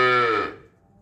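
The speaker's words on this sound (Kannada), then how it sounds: "ಮೋ ಅಂತ ಸೌಂಡ್ ಮಾಡುತ್ತೆ" A single cow gives one loud, close moo that fades out within about half a second, with nothing else around it.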